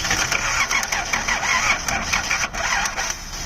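A 1979 Datsun 280ZX with newly replaced injectors and fresh fuel cranks over steadily and close, with a rhythmic mechanical churning that carries on through the whole clip and no voices.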